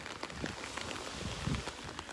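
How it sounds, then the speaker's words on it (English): Rain patters softly and steadily during an all-day downpour on a beach walk in North Naples, Florida, a faint close hiss with scattered small drops and light handling noise. "Raining all day today"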